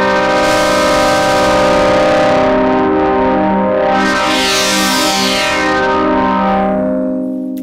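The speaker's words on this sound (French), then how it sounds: "une troisième distorsion analogique qui se trouve directement après l'amplificateur" Analog distortion on a Novation Summit synthesizer roars as a loud, sustained, gritty tone, its filter sweeping up and back down over about eight seconds before slowly fading.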